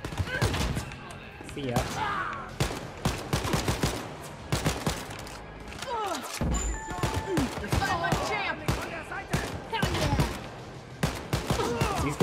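Rapid gunfire bursts from Wolfenstein: Youngblood combat crackle near and loud through the whole stretch, layered with thuds and in-game effects while someone talks excitedly over the shooting.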